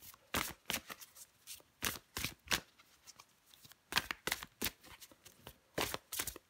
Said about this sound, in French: Je vais prendre encore une carte pour vous, les taureaux.